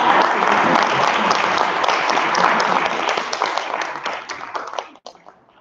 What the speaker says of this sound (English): Let's give everybody a round of applause to start.